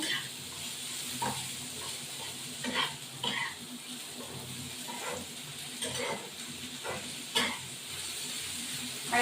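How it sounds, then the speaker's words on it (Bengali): Onion and ivy gourd sizzle and crackle in a hot pan, a steady hiss broken by repeated scraping stirs and small bursts of spitting oil. "একটু ভাজা হবে"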